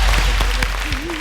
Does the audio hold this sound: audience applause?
yes